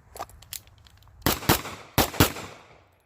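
Tokarev pistol fired at an outdoor range, two loud sharp shots about half a second apart, then a second pair of similar shots, each with a brief ringing decay, plus a few fainter distant reports before them.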